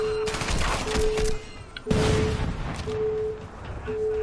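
Rapid gunfire in the video game Crackdown, bursts of automatic shots rattling in quick succession with short gaps, loud and close over game background tones.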